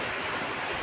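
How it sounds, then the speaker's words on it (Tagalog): Strong wind and driving rain from Typhoon Kristine, a dense, steady roar of rushing noise filling a brief moment with no pauses or voices. "sobrang lakas talaga ng hangin tsaka yung ulan"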